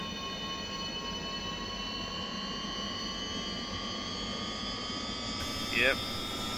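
Steady engine whine with several sustained tones from an SA-315B Lama helicopter engine revving to 100% in FlightGear, holding level with voices talking over it.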